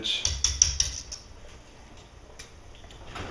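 Light clinking and scraping of a utensil stirring wood duck in a pot of hot water for gumbo, a quick run of soft taps at first, then a quieter simmering background.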